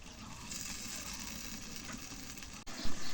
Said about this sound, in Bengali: মাছের মশলা একটু কষাই নেই